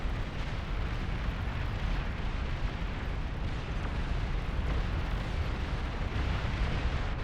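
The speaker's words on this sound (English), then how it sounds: "Big explosion back there." Massive in-game explosion in the strategy game Beyond All Reason, a continuous loud rumbling roar with dense crackling blasts sustained throughout, no voices over it.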